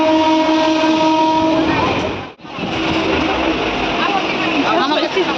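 A passenger train runs loudly and continuously, heard from inside a carriage, with a steady rumble and rattle throughout and a brief dip midway; no speech is heard over it.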